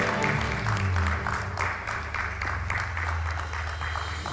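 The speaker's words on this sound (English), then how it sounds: "A loud round of applause for our new President." An audience at the College of Community Physicians of Sri Lanka induction ceremony applauds the new President, steady clapping beneath a low musical hum, moderately loud and continuous.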